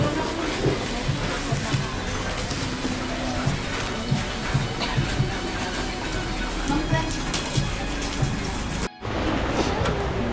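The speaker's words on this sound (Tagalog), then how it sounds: "Ayan nga ulan." Rain falls steadily in a Bicol market area during a typhoon, a dense continuous patter with a brief dropout near the end, while voices talk underneath.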